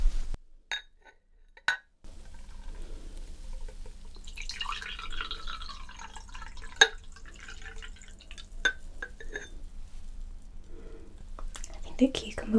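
Cucumber water poured into a glass during a spa-treatment roleplay, a close, soft trickle and drip lasting several seconds with faint glassy clinks, heard alone without talk.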